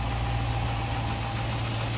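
A 2013 Dodge Challenger SRT8 with its 392 cubic inch, 6.4 liter Hemi V8 idles close by, giving a loud, steady, deep rumble that stays even throughout.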